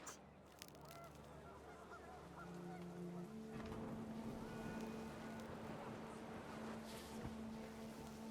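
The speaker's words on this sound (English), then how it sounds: "The wind picked up, and panicked geese appeared and quickly went." Panicked geese honking in What Remains of Edith Finch as wind picks up, a few loud nasal calls rising over a steady rushing ambience and sustained low drone.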